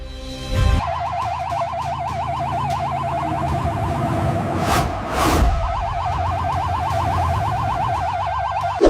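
A police car siren wails in a fast, rising and falling electronic warble, loud and steady, with a brief break midway and a low vehicle rumble underneath.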